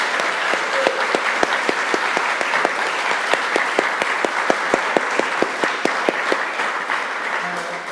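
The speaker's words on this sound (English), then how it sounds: "Quick round of applause," Audience at a Friends of the Lake District election hustings applauds the candidates, steady clapping for several seconds at moderate distance, no talk over it.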